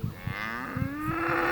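Hungarian gray cattle on a Romanian village farm give a long, rising moo that holds steady for over a second, close and fairly loud, with faint rustling and low thumps underneath.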